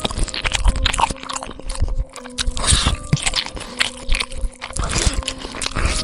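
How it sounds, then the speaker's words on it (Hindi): Wet, squishy chewing and biting with scraping crunches, like someone gnawing in a dark room of a Hindi horror story set around a morgue, irregular and close under an eerie droning background. "तभी उसने बाहर मुख्य कमरे से चबाने की आवाज सुनी।"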